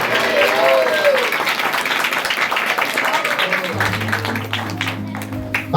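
A church congregation at a New Year service claps in a brief burst of applause that fades after a few seconds. Sustained musical tones then take over.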